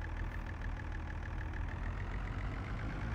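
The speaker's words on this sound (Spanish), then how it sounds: "La marcha atrás con el tractor no la controlo bien" Tractor engine idling in Farming Simulator 22, a steady low mechanical chug with a regular pulsing rhythm, quiet and unbroken throughout.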